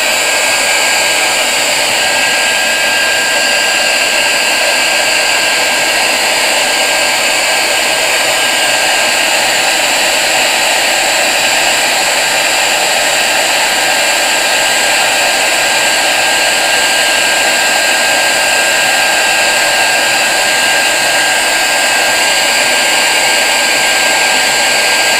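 Handheld heat dryer used to dry craft ink, a loud, constant blowing whoosh with a steady motor whine that runs unbroken for the whole stretch.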